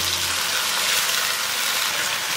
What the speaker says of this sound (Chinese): 把我们的料汁淋进来